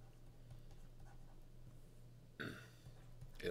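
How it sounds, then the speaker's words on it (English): Faint writing on a board during a Bible lesson, a quiet scratching under steady room hum, followed by a louder burst of scraping strokes near the end. "So, Let's just write this down."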